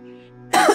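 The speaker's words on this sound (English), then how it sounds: "I need a cough." A single short cough bursts out after a stretch of faint low hum, loud and close, with no talking.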